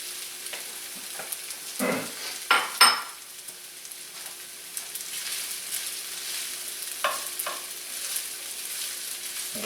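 Chinese spareribs hit a hot pan of fried rice, followed by a low frying sizzle with intermittent scraping spatula strokes and a few sharp metallic knocks, loudest in the first few seconds.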